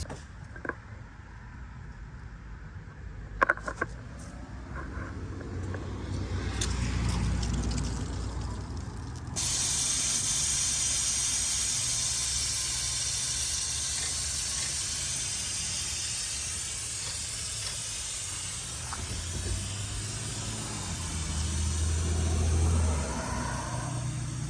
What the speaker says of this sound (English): it dumps all the air out of my airbags